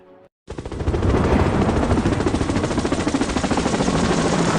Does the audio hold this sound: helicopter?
yes